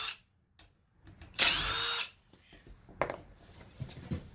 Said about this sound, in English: Nice having the screw gun. It used to take so long to do it with a wrench.